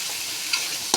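Chicken biryani masala simmers in oil with a steady close frying hiss, broken by brief scraping stir sounds at mid-clip and near the end.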